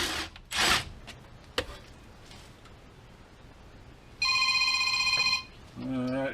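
A telephone rings with an incoming call during an axle job on a 2004 Honda Element, one bright electronic ring burst followed by the start of another, with scattered clanks and handling noises before it.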